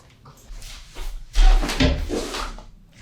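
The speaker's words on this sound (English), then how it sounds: "Okay, let's close the door." A studio door closes with a solid thump midway through, followed by a brief settling rattle, close and fairly loud in a quiet room.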